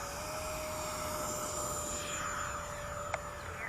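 An FMS Yak-130 RC model jet rolls for takeoff outdoors on moist ground, its turbine giving a steady high whine with a constant tone and a rising hiss, fairly loud and close, with one brief click near the end.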